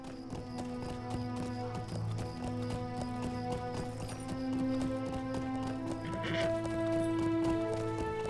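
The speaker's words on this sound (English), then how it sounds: "we can use our horse now that we got all the other quest objectives we were pursuing" Horse hooves clip-clopping steadily in the video game LOTRO, a continuous riding rhythm beneath sustained game music, with no talk over it.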